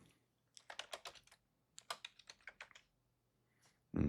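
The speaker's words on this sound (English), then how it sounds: "Type in my password." Computer keyboard typed on close up in a quiet room, with two quick bursts of crisp keystrokes and a short pause between them, then a louder thump at the end.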